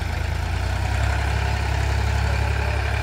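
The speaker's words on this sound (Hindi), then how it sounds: "अब देखिए कितनी अच्छी मिट्टी खींच रहा है" A Farmtrac 30 tractor engine chugs steadily while pulling a load of soil on a farm, a continuous low diesel rumble with an even throb, close and moderately loud.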